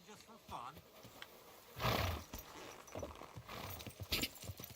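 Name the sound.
horse hooves in video game Kingdom Come Deliverance II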